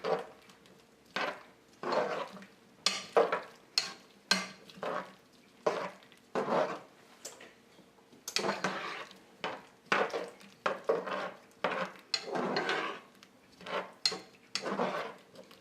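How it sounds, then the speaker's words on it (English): A spoon clatters and scrapes against a pan while glazed carrots are stirred, giving irregular knocks and scrapes in quick bursts, fairly quiet and close with no talking. "Now we're glazing them. So we'll stir all this together."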